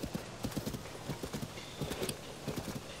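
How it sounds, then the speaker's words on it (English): Horse hooves clip-clopping in The Legend of Zelda: Tears of the Kingdom, a quick, steady run of soft, even hoof beats at moderate distance with a faint whinny-like tone, no speech. "Could actually be nice to have two horses in the frame for the horse picture."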